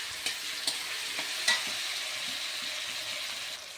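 Potatoes being sautéed with slit green chillies and ginger paste, giving a continuous close sizzle with several sharp stirring scrapes and taps of a spatula against the pan, no speech.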